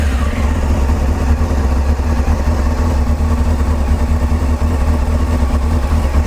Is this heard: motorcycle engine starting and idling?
yes